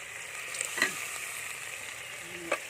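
A Thai spicy coconut curry with red curry paste and catfish simmers in a pot. It gives a faint, steady bubbling hiss broken by a couple of soft, brief knocks.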